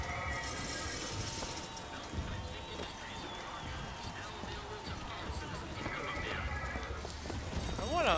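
Mechanical horse hooves clip-clop with whinnying neighs from the automatic stallion in the video game Bioshock Infinite, heard through a steady bed of game noise and crowd babble.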